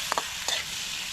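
Fish being stirred into onions frying in a pan, with steady close sizzling and a few scraping clicks of the utensil against the pan.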